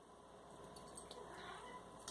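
A house cat meows faintly a few times in a quiet indoor room, with a low steady background hum and no talking.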